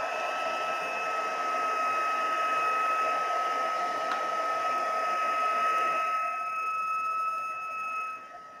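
A hair dryer blowing steadily on watercolour paint, a loud close whirring hum with a tonal whine that runs unbroken for several seconds, then drops in level as it winds down near the end.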